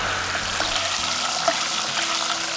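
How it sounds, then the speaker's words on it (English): Sage leaves fried all at once in a pan of oil give off a steady, even hiss of sizzling that holds at moderate loudness, with a few small pops and crackles over it and no voices. "I'm just going to put them all at once into this oil. It's going to make a bit of a noise, but it won't splatter."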